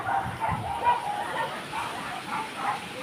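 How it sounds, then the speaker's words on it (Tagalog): Dogs bark in a string of short, muffled barks and yips outdoors, moderately close, with background noise throughout. "Bubait ng mga aso ah."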